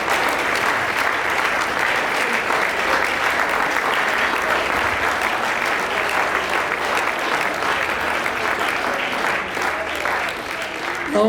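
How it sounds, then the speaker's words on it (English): A standing church congregation at a Uneme cultural day celebration gives a loud, sustained round of clapping, dense and continuous throughout, with faint voices mixed in. "give God a mighty clap offering"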